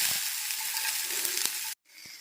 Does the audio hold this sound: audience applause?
no